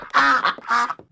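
A duck quacks loudly and close by, two strong harmonic calls followed by a couple of softer short sounds, with no talk.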